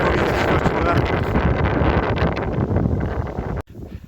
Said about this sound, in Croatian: Vjetar tuče za popizdit.